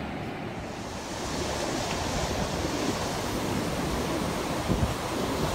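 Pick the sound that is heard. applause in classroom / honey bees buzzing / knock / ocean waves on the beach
ocean waves on the beach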